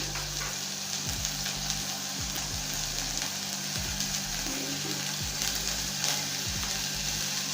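Onion sizzling steadily in a pan of beef stew, a continuous close crackle and fry with occasional stirring scrapes, no talk over it.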